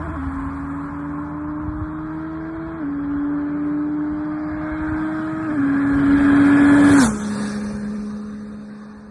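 A CFMOTO 675-SRR motorcycle, past its break-in period, accelerating hard with rising engine whine through three quick gear shifts, growing louder before the revs drop sharply after a final peak.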